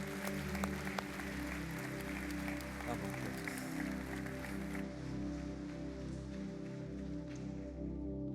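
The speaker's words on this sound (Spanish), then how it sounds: "Denle un fuerte aplauso al Señor" A church congregation applauding for the Lord during a service, a soft, diffuse patter of clapping over sustained music tones, staying low and steady throughout.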